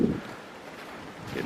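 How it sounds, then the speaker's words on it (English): Wind blowing outdoors during tree work with a Massey tractor, a steady soft rush with slightly stronger gusts at the start and end, buffeting the microphone, with no talking. "getting windy."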